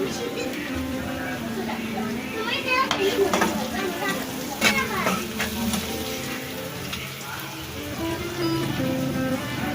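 Softened onions with chopped tomato frying in a pan, a steady close sizzle with scattered stirring scrapes, running under a voice talking throughout.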